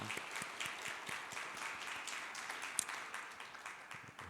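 A church congregation at a Sunday service applauds a deacon recovering from brain hemorrhage surgery, with soft, fairly distant, steady clapping that fills the hall evenly without talk.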